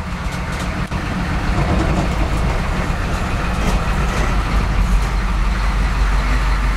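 An old truck rig pulls away in second gear, its engine a steady loud rumble with broadband road and drivetrain noise throughout, building slightly as it moves off.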